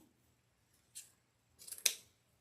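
Scissors trim ribbon for craft bows with two quiet close snips in an otherwise near-silent room, the second a crisp double cut.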